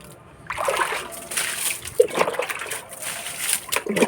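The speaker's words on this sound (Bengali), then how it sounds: "গাছগুলোতে একটু জল দিয়ে দেবো" Water splashes and sloshes onto garden plants such as hibiscus, papaya and curry leaf, in uneven close-up pours and spatters over a few seconds, with faint background noise.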